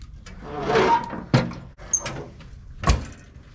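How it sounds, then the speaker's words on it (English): Heavy metal lid of an offset smoker's cooking chamber shutting, with several close, loud clanks and thuds spaced over a few seconds. "close up the cooking chamber lid"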